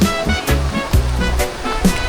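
Bolinao Falls waterfall in Pangasinan, a broad steady rush of falling water at moderate distance, with a few louder swells and faint voices now and then.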